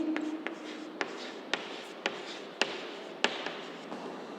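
A pen writes numbers by hand during a class 5 maths lesson. Light, sharp taps and strokes come at a fairly regular pace, about two a second, close and clear with no talk.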